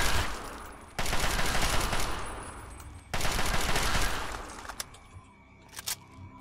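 Sustained automatic gunfire from a gun in Fallout 3 comes in two long, loud bursts, each running about two seconds, followed by a few scattered single shots and clatter as the firing tapers off.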